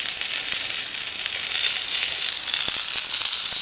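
Fuel burns inside a tin-can survival stove punched full of holes, a steady close roaring hiss with faint crackles running throughout, no talk.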